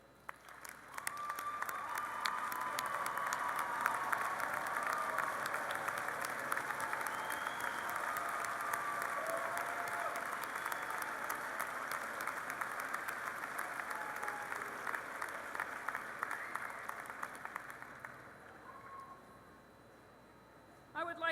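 Sustained applause from a large commencement crowd thanking graduates' families and friends, a steady wash of clapping lasting nearly twenty seconds before tapering off.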